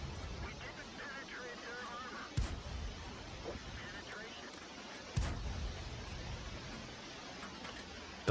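Tank cannon fire in World of Tanks, two sharp heavy booms a few seconds apart with a third starting at the end, over a low rumbling game backdrop and quiet speech.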